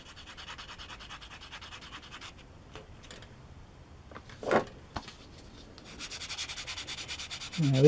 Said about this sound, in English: These sanding sticks